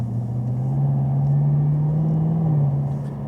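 A 2020 Camaro ZL1 1LE's engine drones steadily while driving in traffic, a loud low rumble with a slight rise and fall in pitch, heard up close from inside the car with no talking.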